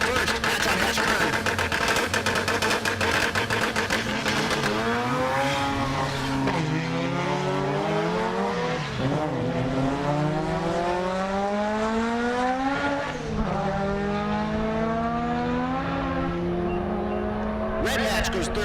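Hatchback drag cars race at the SRCA dragstrip in Great Bend, Kansas, with loud, sustained engine howls that climb in pitch through repeated gear changes and run nearly the whole time, with a commentator speaking over them.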